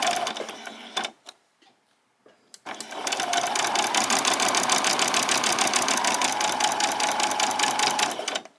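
A sewing machine stitches the top seam of a PJ top: a few short bursts with pauses, then a long steady run of rapid needle strokes near and loud.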